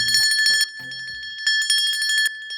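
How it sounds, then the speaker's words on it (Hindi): A small temple bell rings in quick bursts of bright, repeated strikes, pausing briefly between rounds, close and clear. "यकीन ना हो तो मैं घंटी बजाता हूँ ना"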